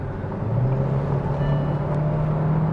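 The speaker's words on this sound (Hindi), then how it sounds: "रोड नॉइज़ बहुत कम आ रही है, विंड नॉइज़ भी कम है" Cabin of a new Kia Seltos on the move, a steady low rumble of road and engine noise with a faint hum, even and continuous, no voices.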